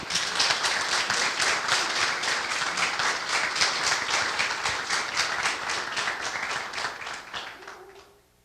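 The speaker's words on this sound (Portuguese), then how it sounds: "eu vou pedir para vocês uma salva de palmas para o projeto que está dando muito certo" An audience at an astronomy talk at an observatory gives a round of applause for a project, dense clapping that holds steady for several seconds before tapering off.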